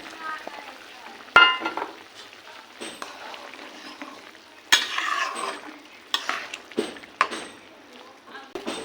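Thin fish curry with ridge gourd and potato bubbling in a pot, stirred with a ladle: irregular scraping and clinking strokes over a gentle simmering hiss, close by and fairly loud.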